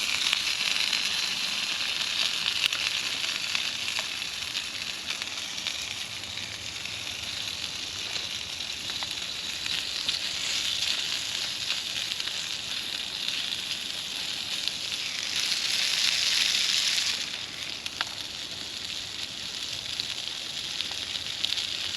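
Bannock and SPAM sizzle in a hot skillet over a campfire, a steady hiss with faint crackles, swelling louder briefly near the end; no talk.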